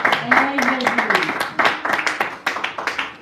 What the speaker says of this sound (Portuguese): Pode bater as palmas, né?